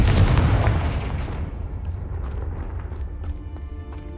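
A fiery blasting-spell explosion in the video game Hogwarts Legacy, one loud booming burst at the start that decays into a rumbling tail with faint scattered crackles and pops.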